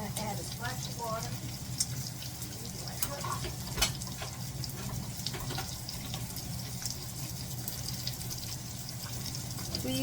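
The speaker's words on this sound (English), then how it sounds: "I'm going to add a splash of water." Filtered water splashes from a tap into a skillet of tomato bouillon in a tiny galley kitchen, a soft continuous running and filling sound with faint clatter and a low voice in the background.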